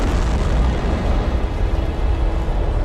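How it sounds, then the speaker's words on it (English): Russian Proton rocket lifting off with the Zarya control module for the International Space Station, a dense, continuous thundering roar with heavy low rumble and crackle, loud and steady throughout without any voices. "Liftoff of the Proton rocket of the Zarya control module."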